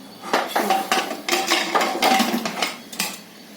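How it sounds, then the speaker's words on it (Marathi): A few metallic clanks and clatters of a lid being placed on a pressure cooker of chickpea masala, close by, with short uneven knocks. "आता मी ना झाकण लावते"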